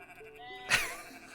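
A single sheep bleat from the video game Equilinox, one short wavering call rising out of quiet background music, fairly close and clear.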